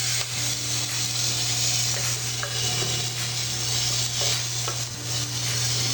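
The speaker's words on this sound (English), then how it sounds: "just keep adding a little bit of liquid and stirring as you go" Polenta being stirred in a pot as liquid is added, a soft steady bubbling hiss with periodic scraping strokes of the spoon against the pan, close and continuous.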